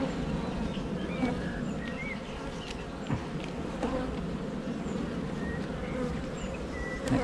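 Honey bees hum and buzz steadily around an open hive during a frame-by-frame inspection, with individual insects passing close at a moderate level.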